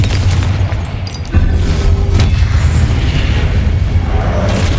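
A Confringo spell blast goes off in Hogwarts Legacy: one heavy, booming explosion hits sharply after a brief lull, then its roar sustains loudly through the rest.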